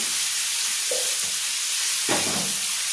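Curry being stirred in a pan with a little ground cumin added, a steady frying sizzle with a few soft scraping strokes of the spoon, close and alone.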